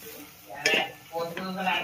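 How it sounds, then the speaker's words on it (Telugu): Garam masala and chili powder stirred and frying in a pan for egg fried rice, with soft scraping and a light sizzle, a voice faintly murmuring in the background. "అందులో కొంచెం గరం మసాలా అలాగే కొంచెం స్పైసీ కోసం కొంచెం కారం వేస్తున్నాను. ఇది కూడా కలుపుకొని బాగా వేగనివ్వాలి."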